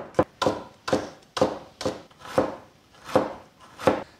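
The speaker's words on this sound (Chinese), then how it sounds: "姜葱蒜片来切上一点。" Knife chopping ginger, scallion and garlic slices on a board in a home kitchen, eight crisp evenly spaced strokes, close and alone.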